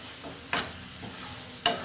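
Onions fry in oil in a pan for a South Indian onion thokku, with a soft steady sizzle under two sharp stirring scrapes of a spoon against the pan.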